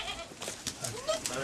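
A goat bleats faintly in a high mountain village in Hunza, a short wavering cry over low outdoor background noise.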